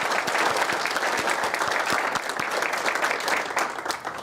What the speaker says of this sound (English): Can we give them another round of applause for sharing?